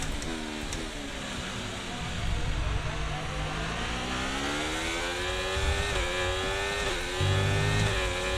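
Formula 1 car engine in the F1 24 racing game, a steady high-pitched whine with rising and falling revs through gear changes, continuous and fairly loud across the whole stretch.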